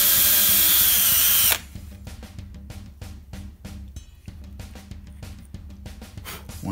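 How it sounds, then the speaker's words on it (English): A loud steady whoosh cuts off, then a power drill bores holes into a cigar box guitar body in short repeated bursts, close up and with no talking. "Once I get these holes drilled,"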